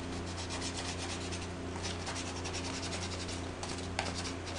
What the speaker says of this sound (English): This doesn't take much sanding, there's not a whole lot to sand here.